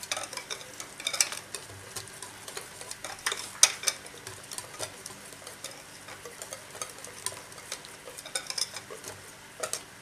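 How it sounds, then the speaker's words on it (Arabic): Basbousa batter of sifted flour and other ingredients being stirred in a bowl, a steady scraping and clinking of utensil against the bowl with occasional sharper taps, close and moderately loud, no voices. "الان هنا راح امزج كل المكونات."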